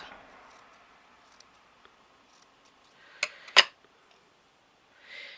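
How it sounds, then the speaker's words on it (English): Scissors trim excess material while a butterfly craft is made, giving two sharp, close snips in quick succession over a quiet room with faint background rustle. "Any excess like that, we can just trim off."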